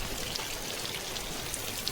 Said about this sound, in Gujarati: અત્યારે જો કેટલો વરસાદ આવે છે.